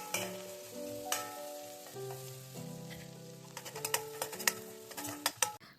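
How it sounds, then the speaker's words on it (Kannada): Onions fry in a pan until browned, giving a soft, low sizzle with light clicking spatula taps that come faster and louder toward the end. A steady hum runs beneath. "ಬ್ರೌನಿಶ್ ಕಲರ್ ಬರೋದು ಸ್ವಲ್ಪ ಫ್ರೈ ಮಾಡ್ಕೊಳ್ಳೋಣ ಈರುಳ್ಳಿ"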